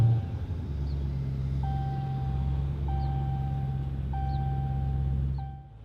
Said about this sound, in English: Starting the vehicle without the remote start, you get in the vehicle, put your foot on the brake and hold it,